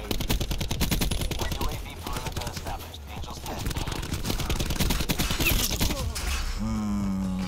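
Rapid automatic gunfire in Black Ops 4 multiplayer, dense rattling bursts of shots with mechanical clicks, loud and close, easing into quieter tones near the end.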